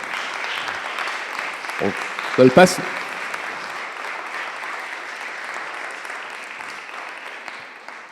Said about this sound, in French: qu'on les applaudisse tous ensemble une dernière fois